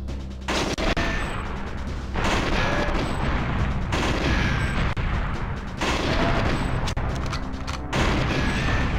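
Loud explosive blasts and gunfire boom in repeated bursts about every two seconds as computers are destroyed in a GoldenEye 007 custom mod, dense and crashing throughout.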